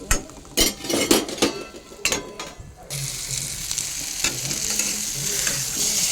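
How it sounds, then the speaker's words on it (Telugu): Eggplant fry being stirred in a pan: sharp scraping and clattering stir strokes in the first three seconds, then a continuous close sizzle, with no talking. "ఒక 5 minutes తర్వాత మళ్ళీ ఒకసారి కలబెట్టాలి."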